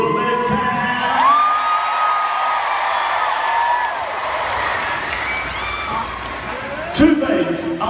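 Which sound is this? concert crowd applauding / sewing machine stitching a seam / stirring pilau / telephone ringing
concert crowd applauding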